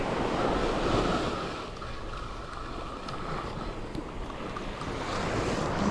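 Ocean waves wash onto a beach at night as a continuous rushing surf, with gusts of wind buffeting the microphone and no voices.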